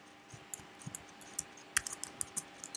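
Typing on a computer keyboard, a quiet, close run of uneven key clicks with small clustered bursts, alone without speech.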